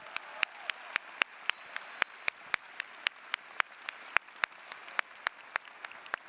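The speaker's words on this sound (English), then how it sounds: "Let's give Dan another big round of applause for that fabulous speech." A small audience at a university winter commencement ceremony applauds, sparse distinct claps rising sharply in a steady rhythm, moderately close, with no talk over them.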